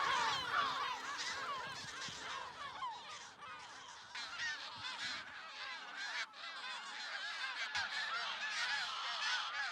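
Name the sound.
Audouin's gulls calling in a breeding colony, Menorca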